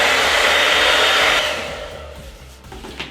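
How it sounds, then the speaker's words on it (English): A hair dryer drying paint on paper blows loudly and steadily for about a second and a half, then fades down as it is switched off, leaving quiet room noise. "Or you could take a blow dryer to it and just dry it,"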